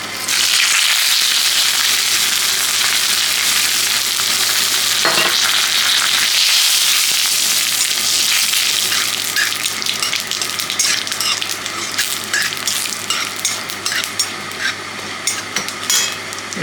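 Whole cumin seeds and bay leaf hit hot oil for a raw jackfruit and prawn curry, a loud, close, continuous sizzle that settles into busy popping and crackling, with no talking.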